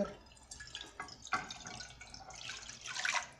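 Liquid poured into a glass while making lemon juice with sugar, soft splashing and trickling that swells and fades in short bursts, quiet and close with no voices.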